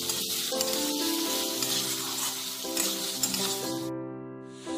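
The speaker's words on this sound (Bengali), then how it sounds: "এবার এর মধ্যে দিয়ে দেব পেঁয়াজ কুচি।" Chopped onion frying in oil with whole spices like cardamom, cloves and asafoetida, heard as a loud, constant close sizzle with no talking, while sustained tonal hum-like notes run beneath it.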